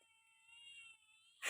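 A cat meows in a thin, drawn-out wavering cry heard faintly at a distance in a home yard, with a louder burst of noise cutting in at the very end.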